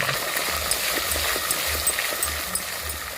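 Onions, green chillies and ginger sizzling in hot tempering oil, a steady close crackle and hiss with faint stirring scrapes, no talking.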